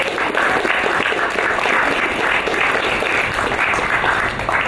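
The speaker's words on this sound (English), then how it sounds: "So let's give our organizing team a huge, huge round of applause." Closing-ceremony crowd at a hackathon gives the organizing team sustained, dense applause, loud and continuous throughout with no voices over it.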